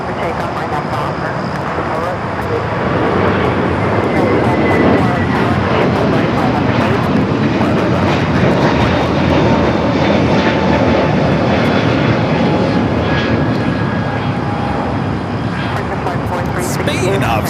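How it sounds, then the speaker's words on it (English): A large American Airlines jet taking off from runway 25 right at LAX, a loud continuous roar of engines building and holding throughout, with people talking over it at times. "American 2746, runway 25 right, clear for takeoff"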